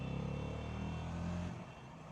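A Bajaj Dominar 350 motorcycle engine hums steadily while riding, a close, continuous drone that drops in intensity near the end as the throttle eases.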